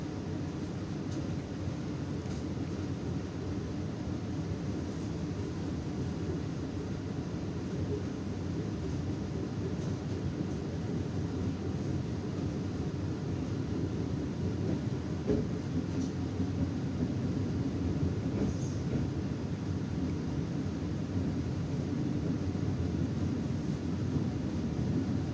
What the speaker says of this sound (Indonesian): Pukul 13:06 kereta api Mata Remaja berangkat dari stasiun